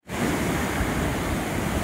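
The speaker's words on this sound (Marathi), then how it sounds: "समुद्राच्या लाटांचा फक्त आवाज ऐका तुम्ही." Sea waves at Tiwari port in Ganpatipule roll in as a steady, close surf roar with a constant wash of water and no voices.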